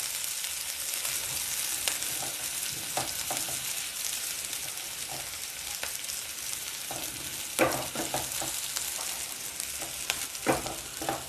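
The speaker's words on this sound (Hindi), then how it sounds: "मैंने अनियन ऐड किया इसमें हमारे तेल और घी के मिक्सचर में। I am stirring it." Chopped onion fries in a mixture of oil and ghee while being stirred, giving a steady close sizzle broken by scraping spatula strokes and occasional louder crackles, with no voices.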